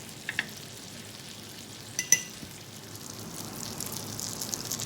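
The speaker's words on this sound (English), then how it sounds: "Then we will place the paneer and we will grill it till the underside turns golden and crisp" Paneer grilling in a pan gives a steady, soft broadband sizzle with a few brief clicks and taps from utensils, close by and quiet, with no voices.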